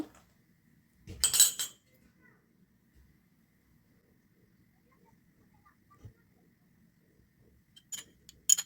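A metal spoon clinks against a container while another spoonful is added, with a sharp jangling burst early on and a few lighter clinks near the end, separated by near silence.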